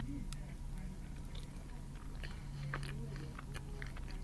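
Greek yogurt cheesecake on a salty cracker crust, topped with extra yogurt, being bitten and chewed up close: soft, moist mastication sounds with a few crisp crunches over a low background hum.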